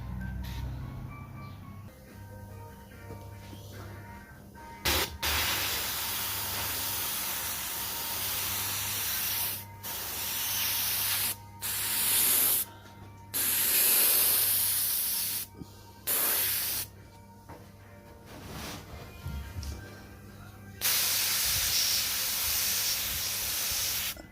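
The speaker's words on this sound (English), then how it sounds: "So yeah, let's airbrush this bad boy." An airbrush sprays paint onto a ministock racing driver's helmet in a series of hissing bursts, some long and some short, with a low compressor hum running underneath throughout.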